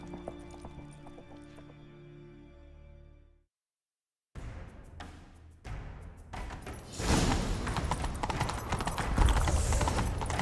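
In The Witcher 3: Wild Hunt, after a musical passage and a brief silence, horse hooves clatter in a quickening rhythm, building into a loud, pounding gallop.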